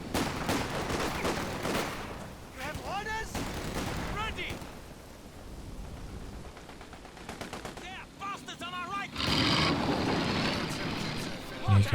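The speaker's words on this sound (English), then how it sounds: "not much can happen with the machine gun covering that fuel" Machine gun fire from a Company of Heroes 2 3v3 match on a port map, bursts of rapid shots mixed with other battle noise and explosions, moderately loud throughout the skirmish.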